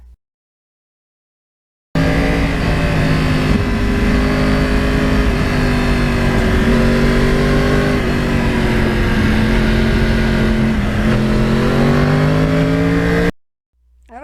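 A Yamaha R1 1000cc crossplane sport bike engine drones loudly while riding, a steady close growl with slight pitch shifts, cutting in abruptly after a brief silence and stopping near the end.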